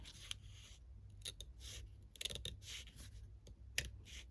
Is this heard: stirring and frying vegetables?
no